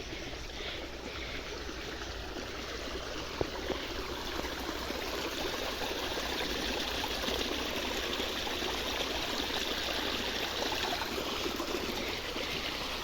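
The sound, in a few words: water flowing in a mountain irrigation channel (kuhl)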